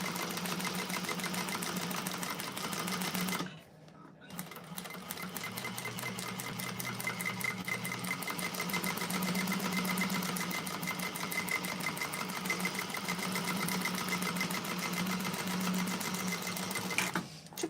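A sewing machine stitching bag pockets runs in a steady rapid rhythm, close and clear, with a brief pause around the four-second mark before stitching resumes and carries on to the end.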